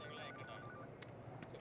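A telephone rings in a Malayalam comedy film scene, a faint electronic ringtone repeating briefly over a dense, noisy background.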